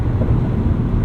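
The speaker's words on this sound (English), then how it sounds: "Wind noise seems about the same." Steady wind and road roar inside a lifted safari-style 2022 Subaru BRZ at highway speed, a constant low rumble with no talk.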